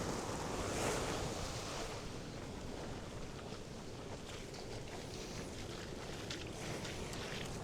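Ocean surf on a beach as a wave washes back out, a broad rushing wash of water mixed with wind buffeting the microphone, fairly close and steady.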